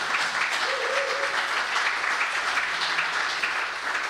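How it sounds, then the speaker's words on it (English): A crowd applauding steadily, a dense wash of many hands clapping at once, sustained and fairly loud throughout. "How about a round of applause for that"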